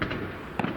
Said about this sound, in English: they don't detract from the fireworks display because they come over the top of the trees